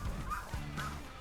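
Snow geese honk as they fly in low during a spring hunt, a few nasal calls close by over wind, brief and fairly faint.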